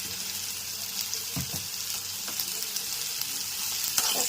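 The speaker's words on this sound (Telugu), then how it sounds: "ఉల్లిపాయ పచ్చిమిర్చి ఇలా వేగుతున్నప్పుడు ఒక స్పూన్ అల్లం వెల్లుల్లి పేస్ట్ వేద్దామండి" Onions and green chillies sizzle in hot oil with ginger garlic paste and turmeric, a steady frying hiss with occasional stirring clinks and scrapes, close and with no talking.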